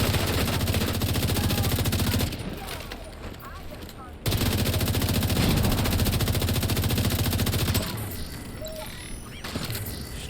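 Rapid automatic assault rifle fire in The Division 2 video game, two long sustained bursts, loud and close, with quieter game sounds in the pauses between them.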